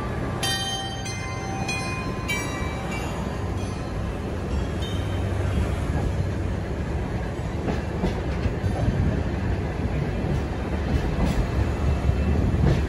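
Sagano scenic trolley train between Hozukyo and Kameoka stations in Kyoto, running steadily on rails with a continuous rumble and rattle of wagons, early metallic squeals and bell-like tones fading into the constant loud ride noise.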